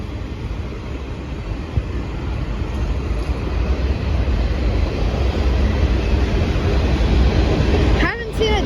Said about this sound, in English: My third train today.